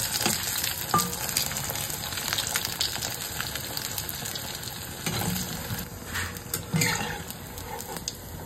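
Pieces of marinated fish fry sizzle in hot oil in a home kitchen pan for a Bengali New Year meal, a steady close crackle with occasional louder spits and faint stirring.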